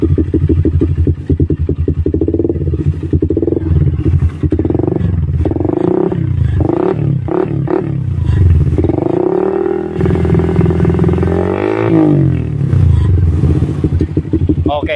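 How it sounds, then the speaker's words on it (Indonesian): A Suzuki Satria Fi150 motorcycle with a modified 30 cm exhaust revs repeatedly, rising and falling throttle blips over a steady close idle, with people talking over it. "Jadi jangan lama-lama dengerin knalpotnya."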